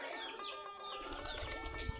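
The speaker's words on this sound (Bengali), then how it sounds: "আমাদের সবগুলা দেশি গিরিবাজ কবুতর।" Desi Giribaz pigeons in a loft, soft cooing calls at first, then a burst of wingbeat flutters and scuffling, close but fairly quiet, with no talk.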